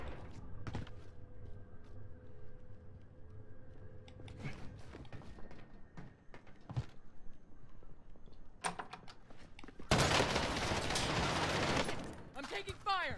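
Gunfire in the Call of Duty Warzone battle royale game, with an AK74u in play: scattered sharp shots early on, then a dense sustained burst of automatic fire near the end, mixed with game sounds and voices.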